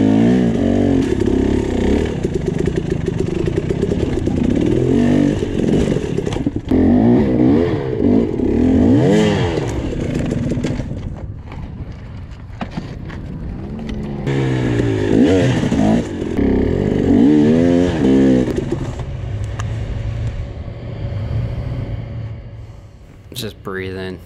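Dirt bike motorcycle climbing a rocky hill during the King of the Motos 2020 race, its engine loud and revving continuously with clattering and scraping against rocks, while a person talks over it throughout.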